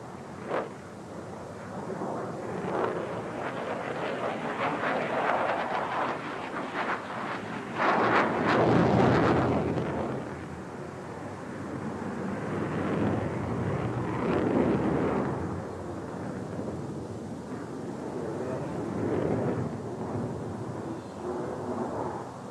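A Sukhoi Su-27 jet fighter flown by a test pilot roars past in flight, a broad rumbling engine noise that swells and fades over a long pass, loud and distant-sounding.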